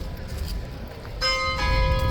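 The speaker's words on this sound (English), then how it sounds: "that was the bell" A bell rings out with a clear sustained metallic tone that starts partway through and then hangs in the air.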